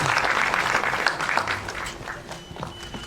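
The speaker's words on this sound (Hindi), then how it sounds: "अटल बिहारी वाजपेयी जी के लिए एक बार जोरदार तालियां हो जाए" An audience claps at a film trailer launch event. The applause is loud and full at first, then thins and tapers over about three seconds to scattered claps.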